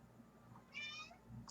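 A pet cat gives a single drawn-out meow, fairly quiet and close, over a low steady household hum.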